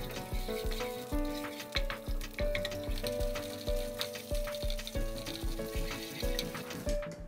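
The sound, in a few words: pepper paste frying in oil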